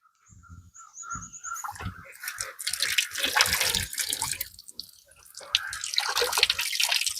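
Water pours and splashes from a newly installed garden water feature, starting with faint trickles and drips and building to an irregular, close gushing flow.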